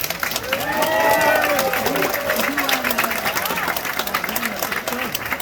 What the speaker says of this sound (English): So let's everybody give him a round of applause.